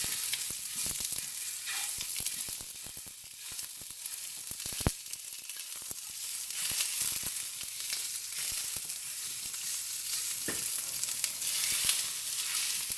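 Sausage frying in a pan while being broken up with a big fork, a constant loud hiss of sizzling fat with occasional scraping and tapping of the fork against the pan.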